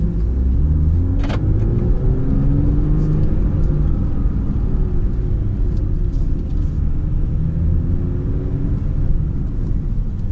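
A petrol car engine in sport mode drives steadily with a loud, continuous low rumble and rising-and-falling engine tones held close throughout, with no talking.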